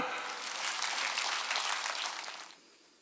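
Church congregation clapping hands during a Sunday worship service, a dense wash of applause filling the room for about two and a half seconds before fading away.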